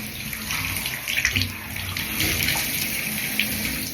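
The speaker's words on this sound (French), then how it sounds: "Petit jet d'eau froide" A small jet of cold water gushes steadily from a tap or shower, rinsing hair in a continuous close splashing rush.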